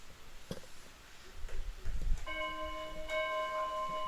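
A classroom bell or timer chime rings out at about two seconds in, a sustained metallic tone that holds to the end, with light handling noise and faint tapping before it.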